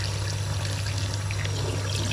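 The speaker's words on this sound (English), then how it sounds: "so what I'm watering now is Vanda Lawrencei" Water pours steadily onto a potted Vanda lawrenceae orchid during plant chores, a continuous close trickling splash with a low steady hum underneath.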